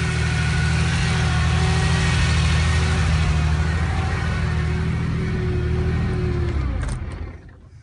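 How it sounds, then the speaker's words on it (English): A 1983 Porsche 911 SC engine idles steadily with a low, throbbing rumble close by, loud and unbroken before it shuts off and dies away near the end. "You can hear the car is running."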